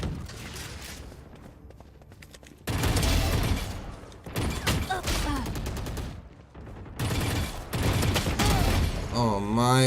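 Video game deathmatch warm-up gunfire, repeated loud bursts of rapid shots with mechanical clicks between them, and a voice briefly speaking at the end.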